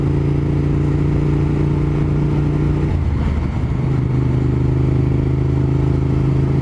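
A motorcycle engine idles steadily with a throaty exhaust burble, dipping briefly as the revs shift midway, then settling back to a constant rumble nearby.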